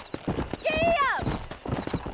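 A horse in the Red Dead Redemption video game gives a loud neigh mid-clip, with rapid hoofbeats clip-clopping close by throughout and a voice speaking over them.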